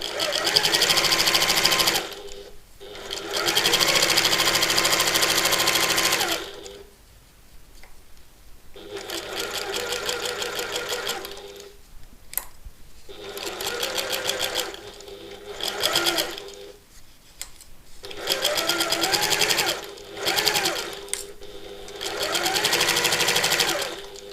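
A domestic sewing machine stitches in several loud, close bursts of steady whirring, broken by short pauses, with brief quiet talk in some gaps.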